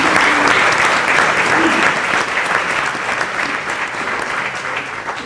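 Loud, sustained applause from an audience at a round-table panel on computing, a thick continuous roar of many hands clapping that fades slightly toward the end.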